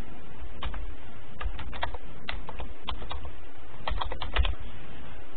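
Someone types a password on a MacBook keyboard, giving a close, steady run of light key clicks in quick irregular bursts over a faint room hum.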